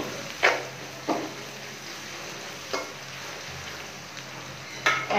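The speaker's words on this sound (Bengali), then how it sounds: "একটু নেড়ে নিব" A salted onion mixture stirred in a pan while cooking hilsa in mustard gravy, with a faint, steady frying hiss and a handful of sparse, soft scraping strokes spaced across the clip, with no speech.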